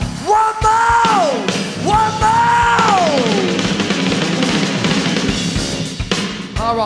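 A concert crowd at a 1989 show in Tokyo lets out loud, sustained yells and screams in two long rising-and-falling waves, followed by scattered shouts and clapping.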